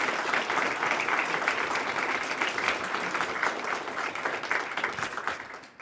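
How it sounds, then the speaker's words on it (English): Steady applause from a crowd at a press conference, sustained at an even level for several seconds before tapering off at the end, with no talk over it. "Let's give him a round of applause"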